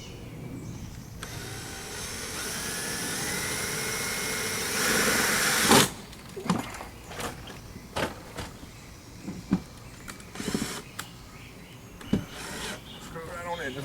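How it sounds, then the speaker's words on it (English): A power drill drives screws into a wall to mount a security light. A sustained whirring motor runs for about six seconds, then gives way to scattered knocks, thumps and handling noises. "Screw it right on in, just like that."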